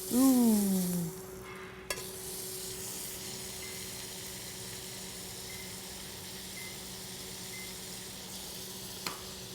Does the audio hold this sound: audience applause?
no